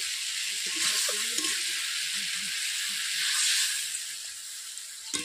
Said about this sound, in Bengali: পটল আলুর মধ্যে জল দিয়ে আমি একটু ভালোভাবে নাড়াচাড়া করে নিচ্ছি